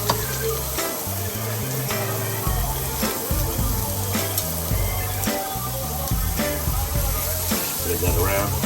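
Butter hitting a hot pan while cooking eggplant with minced beef, giving a steady loud sizzle and frying hiss with intermittent clinks and stirring under background music.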